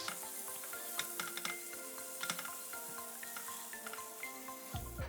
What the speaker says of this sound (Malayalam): ഇതിലേക്ക് ഞാൻ ഒരു പീസ് ബട്ടർ ഇട്ട് കൊടുക്കുകയാണേ.